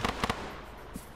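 Gunfire punching through a wall in a military video game, heard as a few quick, faint sharp reports in a tight cluster at the start, then one more soft thump amid low background noise.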